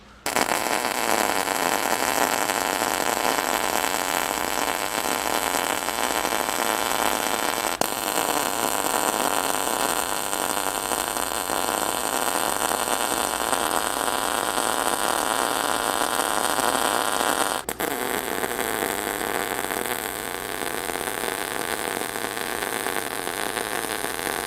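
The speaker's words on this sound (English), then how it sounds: "let me set up the welder and crank the voltage up and start sticking the things together" An arc welder tacks steel parts together for a VW Split Bus single cab rotisserie, a steady loud crackling hiss that runs on with only brief breaks.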